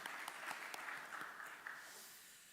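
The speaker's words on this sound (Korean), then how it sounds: "하나님께 영광의 박수를 드리겠습니다." A church congregation at a Wednesday prayer service applauding, a steady wash of many hands clapping together, sustained and even across the whole stretch, heard somewhat distant and soft.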